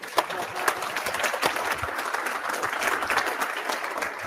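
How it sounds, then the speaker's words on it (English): Audience clapping for a presenter at an Angular developer talk, a steady broadband patter of many hands filling the room for several seconds, with some crowd noise mixed in. "We can clap for Alex."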